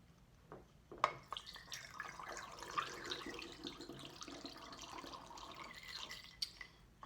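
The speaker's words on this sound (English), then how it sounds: "Now I will want to use my funnel, fill this up with the rest of the way with water." Water is poured through a funnel into a plastic spray bottle, making a quiet, steady trickle and gurgle with a few louder splashes, close by and with no talking.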